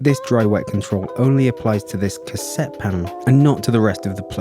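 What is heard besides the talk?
No everyday noise stands out behind the speech.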